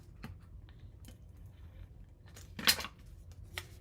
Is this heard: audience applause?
no